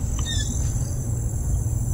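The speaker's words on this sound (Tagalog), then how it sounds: "ay ibon pala." Brief high chirps from birds at a paranormal-investigation site, a couple of thin calls early on over a steady low rumble and faint insect-like hiss, no voices.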